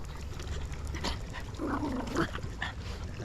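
A puppy near a suburban park creek in Austin, Texas, gives soft whimpers and a few faint yips over steady outdoor background noise, with no talk during the clip.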